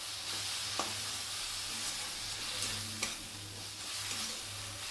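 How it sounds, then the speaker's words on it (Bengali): Spice paste with green chili paste sizzles steadily in a pan for Katla fish dopiaza, with a low continuous fry and a few light clicks from stirring. "আবারও ভালোভাবে মশলাটাকে ভেজে দিচ্ছি।"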